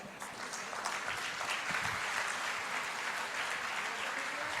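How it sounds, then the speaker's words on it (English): Applause from the audience at a lifestyle diseases technical session of an Ayuryog Expo, a dense continuous clatter of many hands held at an even level with no talk over it. "And a big round of applause."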